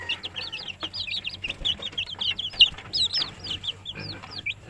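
Young Kabir and brown chickens kept under a heat source give rapid, overlapping high peeps and chirps, close and lively, over a low background hum.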